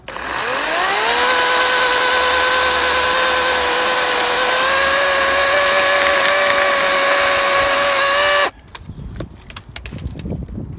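A Toro 51138T brushless cordless electric chainsaw spins up with a rising whine and cuts through wood in a loud, steady electric drone for about eight seconds, then stops abruptly, leaving quieter outdoor background with a few small knocks.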